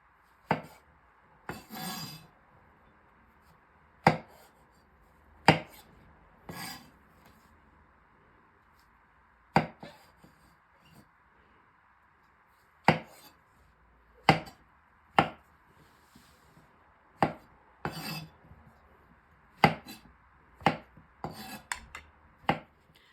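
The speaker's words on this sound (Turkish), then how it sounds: "Yaklaşık 200 gram kadar mantarı bu şekilde dörde bölüyorum" Around two hundred grams of mushrooms are cut into quarters with a knife on a board: about twenty crisp, separate chops, scattered at first and then coming faster near the end, close and clear over a quiet room.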